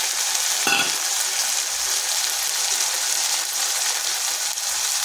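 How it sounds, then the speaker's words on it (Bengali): Ginger, garlic and chopped tomato frying in a pan for a jackfruit curry, a dense continuous sizzle held steady at close range with one brief clatter early on. "এটাকে একটু ভেজে নিচ্ছি যাতে আদার কাঁচা গন্ধটা বা রসুনের কাঁচা গন্ধ যেটা চলে যায়"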